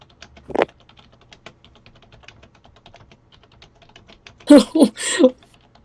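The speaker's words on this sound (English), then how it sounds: "What are you typing, Anthony?" Soft computer keyboard typing clicks away faintly in short scattered bursts, with a louder voice breaking in near the end.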